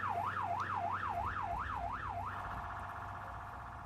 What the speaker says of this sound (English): It didn't take long for the ambulance to arrive and bring Robert's body out of Cool.